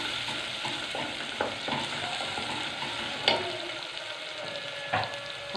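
Sliced onion frying in oil in a pan, a steady close sizzle broken by several scraping, clattering stirs of a utensil against the pan.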